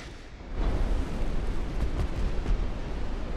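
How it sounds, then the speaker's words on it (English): Torpedo strikes on a warship in the naval battle game Ultimate Admiral: Dreadnoughts, heard as a low rumbling blast swelling after half a second and rolling on with dull booms under a steady roar. "he just nailed me with a couple of torpedoes"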